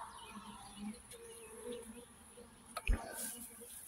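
A small swarm of bees buzzes around an outdoor hive, a faint, continuous drone with single insects passing close, and a brief knock near the end.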